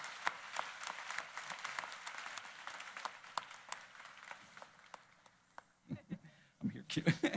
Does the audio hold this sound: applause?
yes